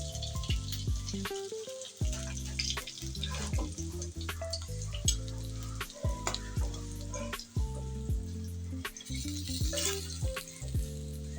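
Steady hiss and crackle of frying in hot oil, moderately quiet and continuous, with occasional clinks and knocks from utensils; no voices.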